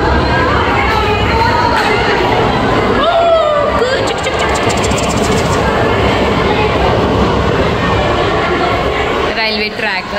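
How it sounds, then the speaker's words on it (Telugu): A train runs along a railway track beside a girls' high school, a steady loud rumble and rattle lasting throughout, with a crowd talking and a horn-like tone over it. "సరే ట్రైన్ వెళ్తుంది"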